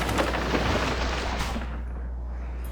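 Units in Civilization V open fire on a barbarian encampment, a dense rumble of gunfire and artillery blasts that rolls on steadily before fading, with no talking.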